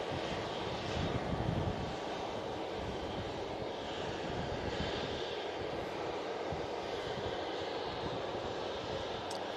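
A Lufthansa airliner comes in to land at Manchester Airport, a continuous, fairly quiet engine roar and rushing air that swells slightly early on and stays steady throughout, with no voices.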